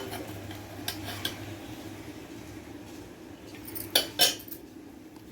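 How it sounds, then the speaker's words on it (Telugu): Dry field beans (anumulu) poured from a cup into a metal cooking pot for a Telugu dish with flat beans, a faint rattle followed by two sharp clinks near the end over low background hum. "అలాగే 1 కప్పు ఇవి అనుములు కూడా వేసుకుందాం."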